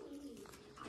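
Fantail pigeons in a mini zoo cage giving a brief, soft, low coo, very short and faint with no talk over it.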